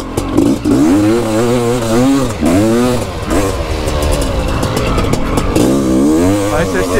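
A TRP 500 CR racing motorcycle, a championship machine, revving loud and close, its engine pitch rising and falling in repeated swells that nearly fill the whole stretch.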